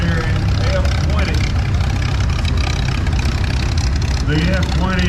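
A 1937 Farmall F20 tractor engine runs steadily in a parade at the Oklahoma Steam and Gas Engine Show in Pawnee, a continuous low chugging rumble with a voice speaking over it throughout.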